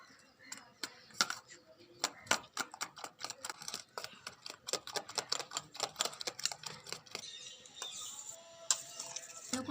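Eggs seasoned with salt and black pepper are beaten briskly in a bowl, a rapid run of light clicking taps from the whisk or fork against the bowl, close and fairly quiet, with uneven bursts and short pauses.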